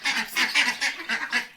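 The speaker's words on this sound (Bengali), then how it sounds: "এই দেখুন হাঁস" Ducks at a jungle resort in Lataguri give a rapid series of about eight close, nasal quacks in an even rhythm.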